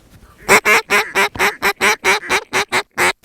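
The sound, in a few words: paradise shelducks (parries) calling overhead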